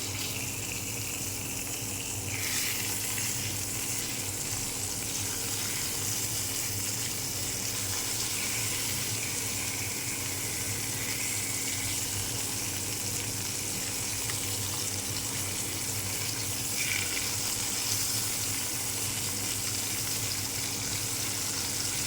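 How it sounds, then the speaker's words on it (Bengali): Rui fish fries in a pan of oil, giving a steady, unbroken crackling hiss that stays at an even loudness throughout with no voices over it. "এখন মাছ ভাজা ফিরিয়ে দেবো।"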